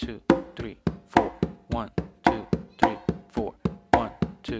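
Congas played by hand in a repeating clave exercise, a steady stream of punchy strokes mixing booming open tones with snappy slaps, near and prominent without any speech.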